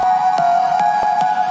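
A sustained synth organ tone holds steady with bright overtones, punctuated by several soft clicking transients in a loose rhythm.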